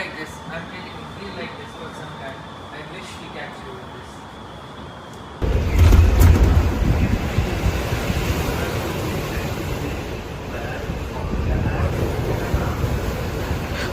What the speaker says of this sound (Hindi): हवाएं काफ़ी तेज़ हो चुकी हैं, लहरें काफ़ी ऊंची उठने लगी हैं।